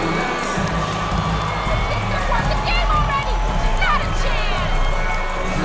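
A steady crowd roar with cheering and applause fills the arena in NBA 2K23, voices shouting throughout at a constant, fairly loud level.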